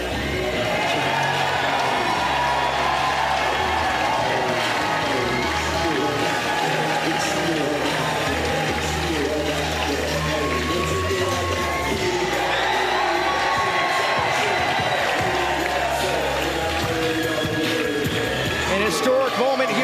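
A sold-out wrestling crowd in Seattle cheers and shouts steadily for a new DEFY World Champion, a loud continuous roar with whoops, under a commentator's voice.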